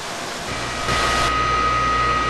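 Air from blowers bubbles through fine bubble diffusers in the aeration tank of a municipal wastewater treatment plant, a steady broadband hiss and rush that grows a little louder partway through and holds evenly to the end.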